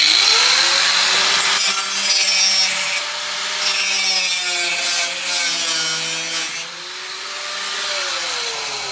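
A saw cuts out a section around a radiator cap during a modification, a loud, close, continuous rasping drone with shifting tonal whine, steady for several seconds with no speech.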